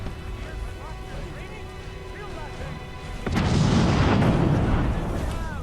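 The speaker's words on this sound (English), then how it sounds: "What was that explosion?" A sudden loud explosion bursts in Skyrim Anniversary Edition after calmer game ambience with chirping, the blast followed by a broad rumbling roar lasting a couple of seconds.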